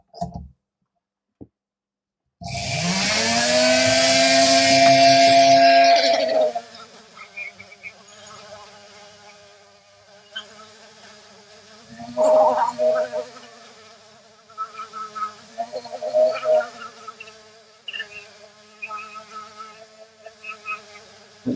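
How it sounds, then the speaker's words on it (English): Dremel rotary tool with an extender polishing a resin 3D-printed visor, whirring up to a loud high whine, then dropping to a quieter drone with intermittent louder grinding surges as it presses on the part. "I'm just using a Dremel"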